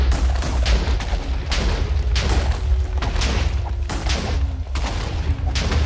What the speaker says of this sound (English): Wait, explosions.